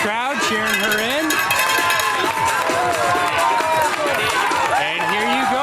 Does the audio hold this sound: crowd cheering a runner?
yes